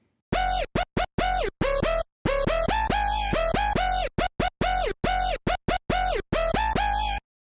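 A harsh, gritty dubstep screech bass synth in choppy, rhythmic bursts with short gaps, loud and alone, its tone sweeping and wobbling between notes.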